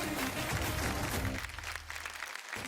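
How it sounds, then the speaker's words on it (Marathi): At a Marathi dance show, the audience claps in a short burst that is loud at first, then thins out and fades within a couple of seconds under some low background sound. "एकदा पुतळ्यासाठी सुद्धा जोरदार टाळ्या होऊन जाऊ द्या"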